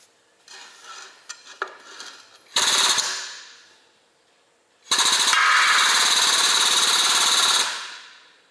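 A hydraulic cylinder pushes a bushing out of a Kubota 1-ton excavator bucket, with light metallic clinks first, then two loud sustained grinding, scraping bursts of metal on metal, the second lasting almost three seconds.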